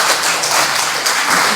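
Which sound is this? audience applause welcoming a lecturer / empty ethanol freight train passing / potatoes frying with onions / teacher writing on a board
audience applause welcoming a lecturer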